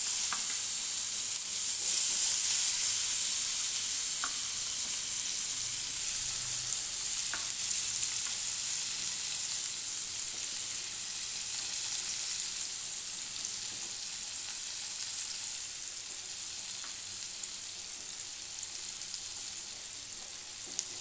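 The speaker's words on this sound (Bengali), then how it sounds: "বন্ধুরা, পেঁয়াজটা ভাজা হচ্ছে" Chopped onion fries in hot oil in a pan for a Bengali chana paneer dish, giving a steady, even sizzle that fades slightly over time, with no talking.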